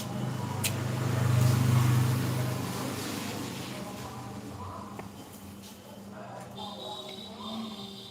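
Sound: road traffic, vehicles passing

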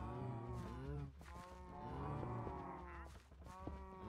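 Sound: cows mooing in video game Minecraft

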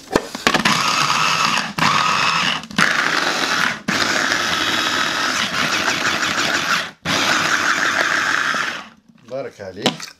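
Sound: electric grinder grinding onion and coriander

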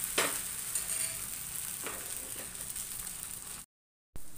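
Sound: rice-flour batter poured and swirled onto a hot pan, neer dosa

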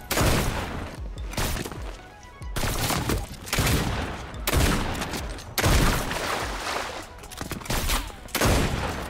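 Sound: sniper rifle shots in Fortnite video game

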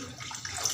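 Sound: water being poured into a cooking pot

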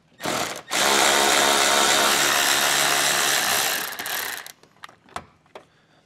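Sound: tool removing a 10 millimeter bolt on a Jeep

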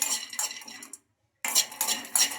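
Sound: peanuts being roasted in a kadai

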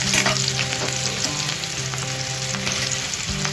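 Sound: onion frying in a pan until light brown

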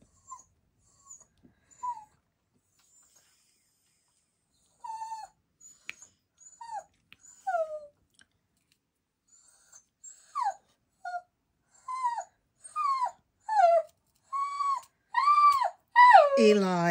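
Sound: hound dog whimpering and howling

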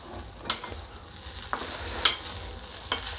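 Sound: stirring poha mixture in a pan

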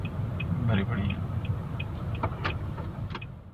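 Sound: heavy road traffic on Brooklyn Bridge, New York

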